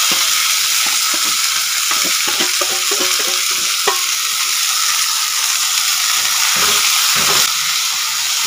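Leafy greens fry and are stirred in a hot wok with mustard oil, garlic and green chilli, giving a loud, steady sizzle with repeated scraping clatters of the spatula, up close and without talk.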